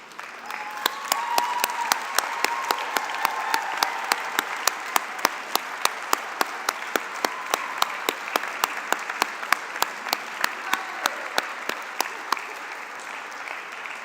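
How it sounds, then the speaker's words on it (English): Audience at a 2021 professional commencement ceremony applauding steadily for about fourteen seconds, a dense sustained wash of clapping with a few sharper nearby claps and faint murmuring underneath. "for the graduating class and us on the podium to applaud you"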